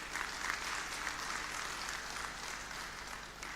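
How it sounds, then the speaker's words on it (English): Steady, sustained applause from an audience at a conference inaugural ceremony, greeting dignitaries gathered on stage; the clapping is even and moderately distant, with no voices over it. "A big loud applause for this all dignitaries."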